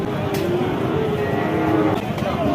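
Cattle moo in long, low, drawn-out calls over a steady background hum, close and fairly loud, at a cattle market in Jashore, Bangladesh, among bulls and calves.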